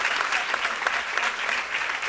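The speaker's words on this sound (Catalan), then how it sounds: "un fortíssim aplaudiment per totes tres" An audience applauds three panelists at a women-in-STEM round table, with dense continuous clapping that stays even and fairly loud for the whole stretch and a faint crowd murmur underneath.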